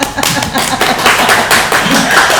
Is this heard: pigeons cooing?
no